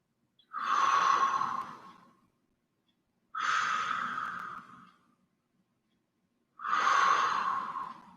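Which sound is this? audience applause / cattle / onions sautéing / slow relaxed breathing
slow relaxed breathing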